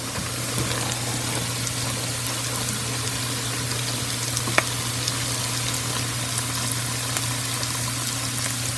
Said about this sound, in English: now we're adding more water